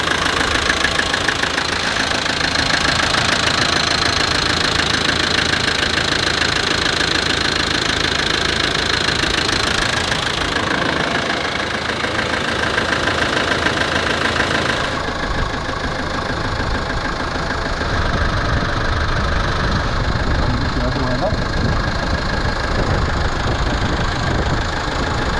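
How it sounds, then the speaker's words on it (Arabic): A car engine runs steadily while its coolant is bled, a loud, continuous close-up drone with a knocking, idling rumble that holds throughout with only slight shifts in tone. "ودابا عمر كيبرجي ريزال الموتور وغادي يدير لنا الماء."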